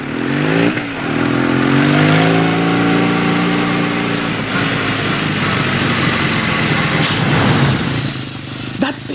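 A motorcycle engine revs up loud and close, then holds a steady drone as the rider pulls away in pursuit of a rickshaw.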